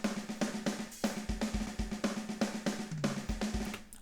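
A programmed rock drum track from the MT Power Drum Kit VST plays back with steady kick, snare and cymbal hits in a driving rhythm, fairly quiet and with no talking.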